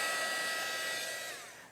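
Heat gun used as a paint stripper blows hot air in a steady, loud broadband rush that holds throughout and eases off slightly near the end, with no talking over it.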